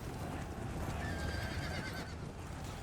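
Horses neigh and whinny over a dense, rumbling clatter of galloping hooves in a medieval warfare strategy game, a steady, busy mass of cavalry noise with no one talking.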